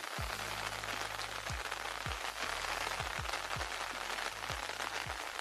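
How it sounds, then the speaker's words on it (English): A rain simulator gives steady, dense hiss of falling rain, with repeated low thumping pulses underneath throughout. "This is a rain simulator."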